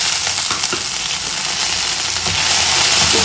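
Green chilli thecha fries in a pan over a medium flame with a steady, close, loud sizzle and crackle, broken by a few stirring scrapes and no talk.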